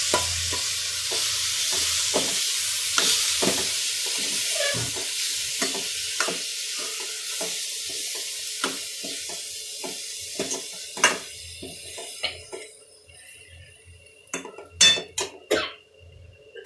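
Boiled vegetables go into a simmering groundnut gravy and are stirred, a steady sizzle under repeated rhythmic spoon strokes against the pan, ending with a few louder clinks and knocks of utensil on metal.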